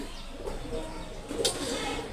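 Pigeons coo softly in a rooftop loft, a low murmuring under steady background noise, with a brief sharper rustle midway.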